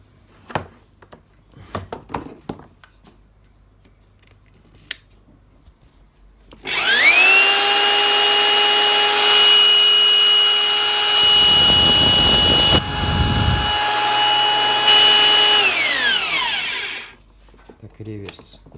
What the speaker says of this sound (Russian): перфоратор Bosch.